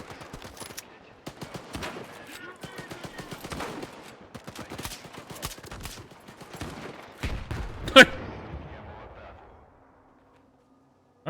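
Gunfire in the shooter STALKER 2: bursts of rapid automatic shots and separate cracks with several louder blasts, one sharp bang near the end, then the firing stops and fades to near silence.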